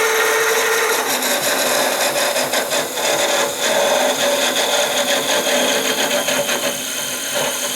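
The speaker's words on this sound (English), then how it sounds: "So we're just going to get in here with our parting tool, turning the lathe on." A wood lathe spins a honey dipper blank while a parting tool cuts in, giving a loud, continuous scraping hiss with a faint rhythmic pulse and no voices.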